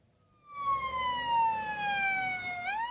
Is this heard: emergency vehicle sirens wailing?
yes